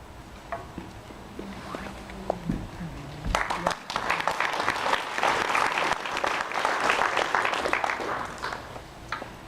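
A town hall audience in West Hills breaks into applause partway through, after a few seconds of quieter shuffling and small knocks; the clapping swells into a dense, steady burst of many hands and keeps going to the end.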